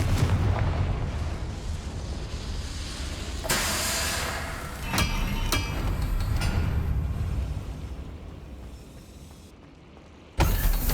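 Blasting-spell explosions in Hogwarts Legacy: a few sharp, loud blasts with crackling tails over a steady rumbling game background, the last burst hitting near the end.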